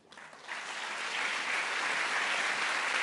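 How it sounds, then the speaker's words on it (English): An audience applauds at an annual strategic forum of European leaders in Slovenia, a dense, steady wash of clapping that swells and holds at moderate distance with no voices over it. "This is your applause."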